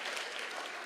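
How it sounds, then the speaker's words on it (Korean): A church congregation breaks into brief applause during a sermon, a soft continuous patter of many hands clapping, somewhat distant and quiet, with no speech over it. "서로 간에 박수."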